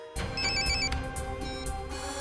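A telephone rings in a TV crime drama scene, a loud electronic ringtone with repeating warbling tones sounding alone, close and steady throughout.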